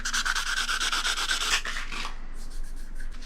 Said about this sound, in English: In order for the JB weld to hold really well, we're going to rough this up with sandpaper first